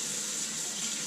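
Warm bath water running steadily from a tap for floating eggs at a chicken ranch, a continuous close hiss of flowing water with no voices.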